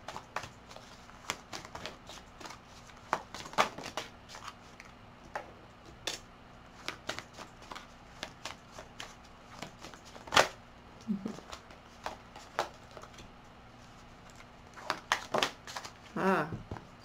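Tarot cards shuffled for a card reading, a rapid run of soft riffling clicks and crisp paper flicks in short bursts, close and fairly quiet, with brief pauses between handfuls.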